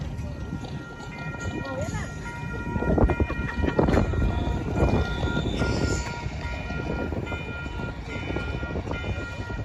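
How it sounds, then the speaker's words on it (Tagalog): A train rumbles past close by in downtown Calgary, a broad low roar swelling in the middle with rattling wagons, while a person talks over it. "Diyan na yung tren."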